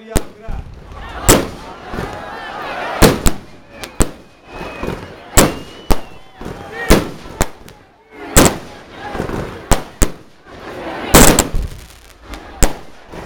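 Fireworks display at a village day celebration in Glodeni, with a rapid series of loud, sharp explosions and booming bursts spaced every second or so, some crackling tails between, close and powerful throughout.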